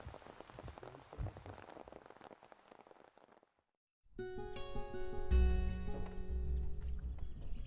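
Heavy rain falls steadily as a dense, continuous wash that briefly drops away, then returns under a layer of music.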